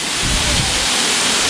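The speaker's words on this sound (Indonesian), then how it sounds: "Ini air terjunnya keren habis." Roaring waterfall in Maros, South Sulawesi, a dense steady rush of falling water filling the scene, loud and close with no break.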